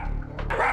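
A small rescued female dog with one amputated leg barks at an approaching stranger, a short, close, sharp yap or two over a low background rumble.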